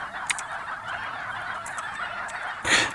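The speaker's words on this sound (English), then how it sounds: "check out our chickens" Fowl calls from a flock of chickens in a Godot 3D island game, a short squawk near the end that stands over a steady hiss of game ambience.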